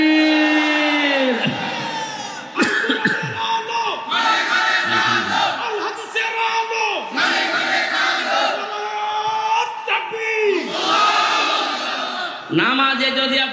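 A large outdoor crowd at a Quran tafsir mahfil gathering in Kushtia, Bangladesh, shouts the takbir in repeated loud, drawn-out unison calls, several waves rising and falling in a steady rhythm.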